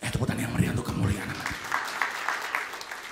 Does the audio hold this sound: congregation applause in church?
yes